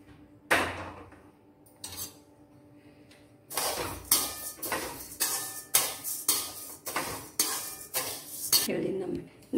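A metal utensil scrapes and knocks against a pan while dried chakli is heated on a low gas flame, first sparse clinks, then a steady run of close, fairly loud stirring strokes, with no talking.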